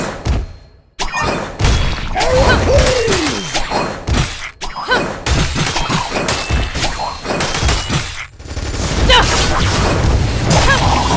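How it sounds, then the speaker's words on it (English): A turret is destroyed in the game LOA amid busy combat, with heavy booms, thuds and shattering crashes tumbling over one another across the stretch, mixed with announcer-style voice and battle effects. "Your team has destroyed a turret!"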